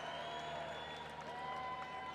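Very faint, distant crowd applause at Canterbury Park during an audience vote for a bubble blowing contest, soft scattered clapping with light cheering and background murmur.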